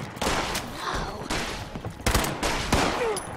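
Fully automatic gunfire in Fallout 76, heard as dense, rapid bursts of shots with short pauses between them, loud and close, with a player's voice occasionally underneath.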